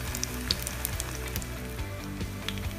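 Veg roll tikki frying in a pan with a steady close sizzle of hot oil and scattered small pops, continuous throughout with no talking.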